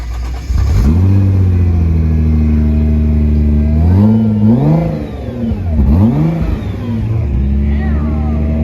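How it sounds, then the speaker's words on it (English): Nissan GT-R on its stock exhaust fires up and idles, then gets blipped through several rising and falling revs, loud and close throughout. "Stock exhaust."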